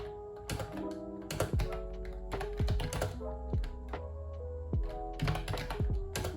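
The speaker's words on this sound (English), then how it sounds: "I get lots of typo with this keyboard" Clacky keystrokes at an uneven pace on a Mofii Pink Candy wireless typewriter-style keyboard with round keys, close and fairly loud, with sharp ringing taps and heavier thunks mixed through the typing.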